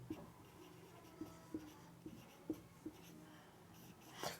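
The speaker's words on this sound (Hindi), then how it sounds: "तो अपन इसका नाम लिखते हैं" A pen taps and scratches across paper in short, regular strokes as a chemical compound name is handwritten, close and quiet with brief pauses.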